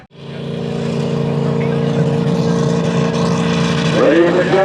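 A pro street diesel pulling truck, the Problem Child, at a pulling event: a loud, steady engine drone with strong harmonic hum that builds and holds, a brief rising rev near the end.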